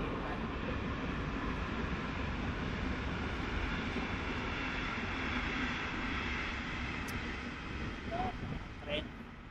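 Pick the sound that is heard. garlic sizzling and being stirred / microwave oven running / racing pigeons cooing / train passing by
train passing by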